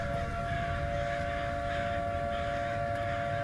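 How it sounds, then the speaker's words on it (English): A civil defense siren wails steadily in the horror video game Summer of 58, a sustained droning tone that holds at moderate level over a low rumbling background, with no speech. "Why is there a siren going off?"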